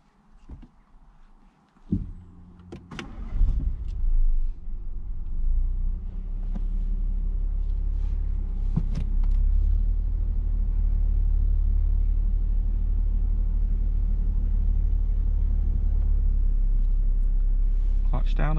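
A learner car moves off during a driving lesson, starting with clunks and movement inside the cabin, then settling into a steady, loud road rumble. People speak inside the car.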